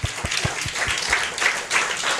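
A church congregation clapping in rhythm, with about six booming regular claps at the start that then blend into a steady mass of applause from the crowd.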